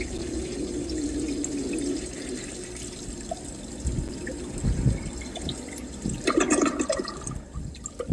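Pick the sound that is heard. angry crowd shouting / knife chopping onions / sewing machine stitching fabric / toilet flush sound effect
toilet flush sound effect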